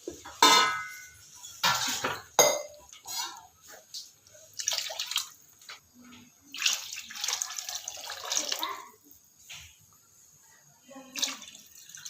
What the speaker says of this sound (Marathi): यामध्ये पाणी घालायचं आहे पाणी ते भरपूर घालायचं आहे